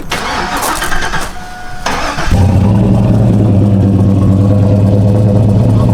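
A Chevrolet Silverado step-side truck with a Magnaflow bullet exhaust cranks and fires up, then settles into a loud, steady, deep idle close by, after a short stretch of background noise.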